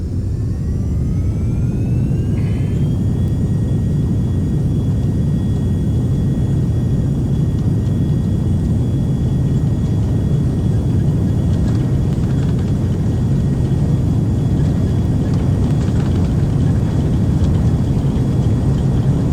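Beechcraft twin aircraft engines in the X-Plane 11 flight simulator spooling up to takeoff power, a loud steady roar with rising whine tones in the first few seconds, then a constant dense drone throughout with no talk.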